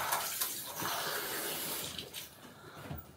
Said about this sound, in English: Yeah, man, I'm going to have a shower.